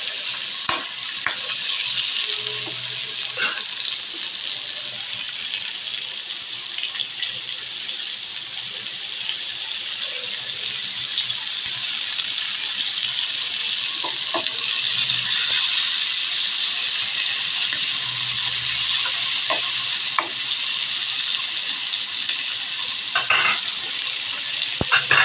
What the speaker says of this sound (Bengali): এটাকে চিংড়ি মাছগুলোকেও ভাজা করতে